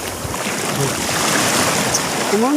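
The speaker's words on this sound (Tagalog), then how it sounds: "Hinihila ako ng alon." Sea waves washing on the clear-water beach of Calaguas Island, Vinzons, Camarines Norte, heard as a loud, continuous broadband surf wash close by, with a faint brief voice near the end.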